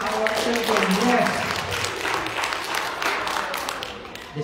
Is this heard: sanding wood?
no